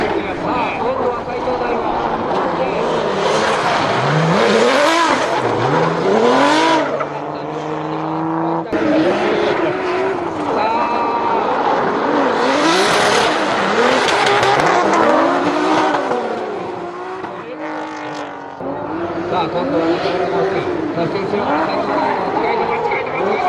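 Daigo Saito's Formula Drift GTR drifts past with loud rising and falling engine revs and tire squeal, repeated in close waves at a drift event while a commentator talks over it.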